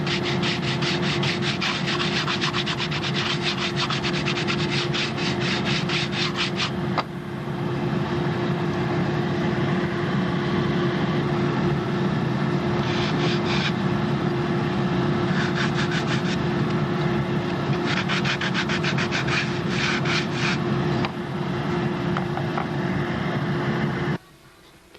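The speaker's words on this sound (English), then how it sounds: "I want to get this block sanded down before I put on the other" A wooden block on a model boat hull is sanded with long rhythmic strokes. A steady close abrasive rasp with a constant hum beneath runs for about twenty-four seconds and breaks off briefly twice, with no one speaking.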